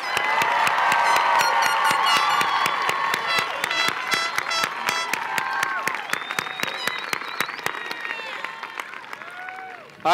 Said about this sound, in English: Round of applause for the graduates of 2018.